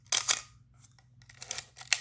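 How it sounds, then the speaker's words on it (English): A camera shutter fitted with a Takumar 50mm f1.4 lens fires in quick, crisp mechanical clicks and clatters, with a faint hum underneath and a second burst of snapping a moment later. "whenever I press the shutter button"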